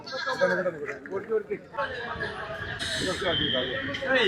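A goat bleats several times, close and wavering, while people talk nearby at the busy outdoor Chattiparamba livestock market.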